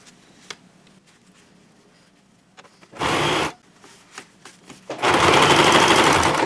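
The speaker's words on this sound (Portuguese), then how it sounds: "E vou costurar ele aqui." Sewing machine stitching a fabric car organizer, two close bursts of rapid mechanical whirring, a short run then a longer one, separated by quiet handling of the fabric.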